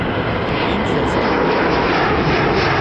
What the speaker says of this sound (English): F-35s just coming out as well.